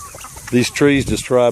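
Baby guinea fowl keets and chickens cluck and call in a short burst of several close, harmonic bursts outdoors, loud and choppy.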